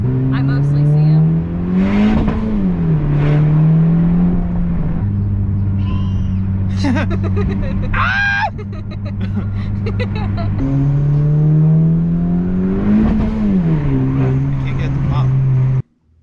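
A Honda Civic Type R engine revs up close and loud. The pitch climbs twice in a short rise and fall, with a steady droning idle in between, before it cuts off abruptly at the end.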